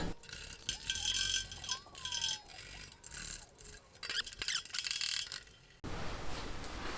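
Ratchet with a 5/16 quarter-inch drive socket backing bolts off a Troy-Bilt chipper/vac, giving repeated fast clicking bursts of the pawl, close up, with metallic clinks and short pauses between runs.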